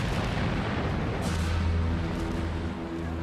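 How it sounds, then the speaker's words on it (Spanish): A huge explosion tears through the battleship HMS Hood after a shell from the Bismarck strikes, heard as a sustained, dense roaring rumble lasting several seconds with a sharper crack partway through. "Se produjo una enorme explosión."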